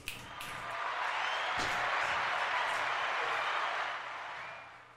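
A small group claps in a podcast studio, the clapping swelling in, holding steady, then tapering off near the end.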